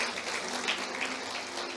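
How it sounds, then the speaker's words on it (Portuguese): Church congregation clapping to welcome visitors during a service, a brief, moderately loud patter of applause filling the room with a low hum underneath. "uma salva de palmas para os nossos visitantes"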